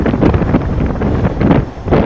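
Strong wind on a 22°C day buffets the microphone in loud, rumbling gusts, rising and falling over a couple of seconds.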